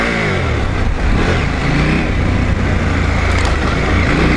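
A 2021 KTM 890 Adventure motorcycle rides slowly along fire roads, its engine droning and revving loudly and steadily up close throughout.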